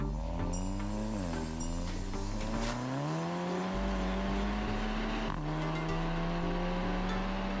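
A 2013 Mark 7 Volkswagen Golf GTI with DSG gearbox revs and shifts, its exhaust note rising in pitch through several gear changes, dropping briefly and climbing again, loud and close with no talking.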